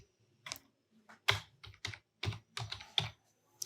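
A website name is typed on a computer keyboard in the Safari browser setup: about a dozen close, crisp keystrokes in an irregular rhythm with short pauses, no talking.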